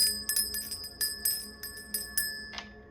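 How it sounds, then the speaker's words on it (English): A small bell rung to cleanse a space, sounding as a series of bright, clear metallic strikes with ringing overtones, about seven tones spaced unevenly over a few seconds, fairly quiet and alone. "I'm going to ring this bell to cleanse this space."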